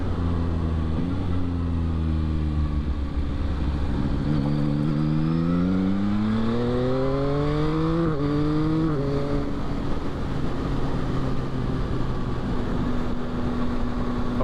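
A 2022 Yamaha XSR900 motorcycle engine pulls hard in fifth gear, its drone rising steadily in pitch over several seconds before settling into a steady cruise under constant road and wind noise.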